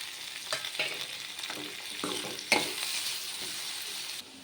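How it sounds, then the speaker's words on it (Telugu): Onions sizzle in a kadai at moderate volume, with occasional scraping stirs and a few sharper clinks over the steady frying. "పక్కన ఇంకో కడాయి పెట్టేసుకొని ఆనియన్స్ వేయించేస్తున్నాను"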